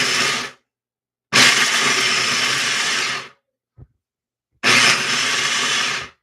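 An electric food chopper whirs loudly through pecans in two longer bursts and a short one, separated by silent pauses and a small clunk, with no one talking.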